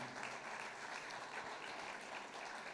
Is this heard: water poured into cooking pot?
no